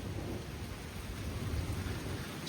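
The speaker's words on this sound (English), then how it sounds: "the storm is getting out of control" Thunderstorm outdoors with steady heavy rain and a low continuous thunder rumble, loud and unbroken, with no voices.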